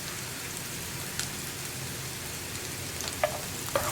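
Onions and curry leaves frying in a pan for an onion coconut chammanthi, a steady soft sizzle throughout with a couple of brief clinks near the end, no talking.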